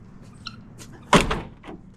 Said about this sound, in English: here is the door to the skirting